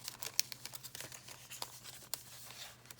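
A clear plastic envelope and a paper card are handled, giving soft, quiet crinkling with several sharp little crackles scattered through, close up and without talking.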